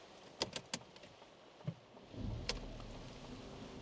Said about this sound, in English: it starts the car